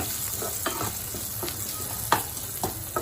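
Chopped tomato stir-fried with spinach and potato for a dry aloo palak dish, a steady soft sizzle broken by several sharp scrapes of a spoon against the pan, close and on its own.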